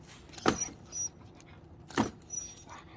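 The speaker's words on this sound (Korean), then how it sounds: "낑낑대지 마 너" A small dog whimpers nearby in two short, high, nasal bursts separated by quiet, with faint fainter whines between them.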